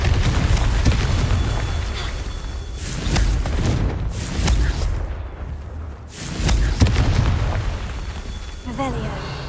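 Confringo fire spell explosions in the game Hogwarts Legacy, several loud booming blasts spaced a couple of seconds apart over a rumbling background of combat noise.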